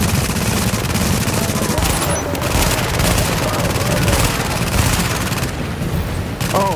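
Rapid gunfire and turret fire in the video game The Division, dense sustained bursts with booms, loud and continuous throughout.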